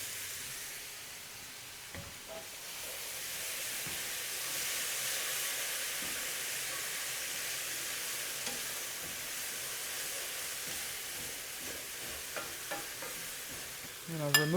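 Thinly sliced carrots sizzle steadily in a pan with honey garlic sauce, a broad, even frying hiss that holds throughout, broken by a few stirring scrapes and a sharper sputter near the end.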